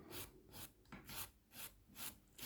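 An acrylic nail is filed with the finer 180-grit side of a nail file in about six quick, even rasping strokes, close and steady, with no voices.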